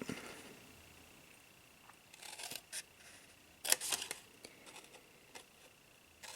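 Scissors cutting card stock for a small chocolate gift box, several short snipping and rustling bursts, close but quiet, separated by near silence.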